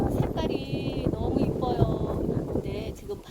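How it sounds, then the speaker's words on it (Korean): Strong, steady wind blows through ginkgo tree leaves with a constant rustling hiss, close to the microphone, and faint chirps come through now and then. "바람 소리 들리시나요?"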